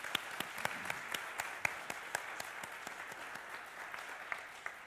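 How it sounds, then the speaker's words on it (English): A crowd applauding steadily, many hands clapping at a moderate distance, sustained for several seconds. "How about a quick round of applause for Dave?"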